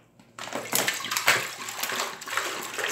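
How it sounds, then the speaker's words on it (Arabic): Water pours steadily into a cooking pot, starting abruptly after a brief quiet moment and continuing as a close, sloshing stream. "ندير عليها الماء"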